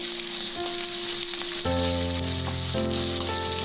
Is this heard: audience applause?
no